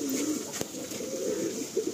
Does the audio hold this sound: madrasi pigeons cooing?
yes